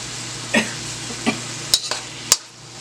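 A spoon stirs and mixes seasoned ingredients in a pot for a saltfish and breadfruit pie, with a few spaced scrapes and light clinks over a low steady hum.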